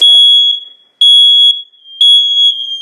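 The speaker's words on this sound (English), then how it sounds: "So smoke detector, and the carbon monoxide. Always test, change batteries." A household smoke detector being tested gives three loud, piercing, shrill electronic beeps in a regular rhythm, each lasting about half a second and separated by short gaps.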